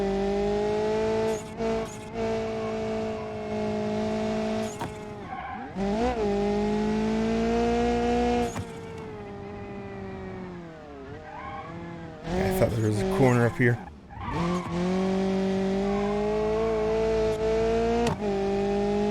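A dirt rally car in BeamNG.Drive on a Baja hill course holds a loud, steady engine drone through gear changes, with bursts of tire skidding and revving. A person talks over it briefly.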